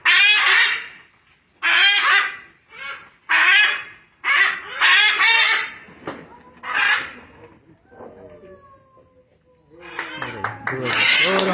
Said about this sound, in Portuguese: São araras-canindés estão sendo libertadas.